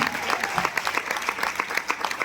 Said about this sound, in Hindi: दिल से ताली होनी चाहिए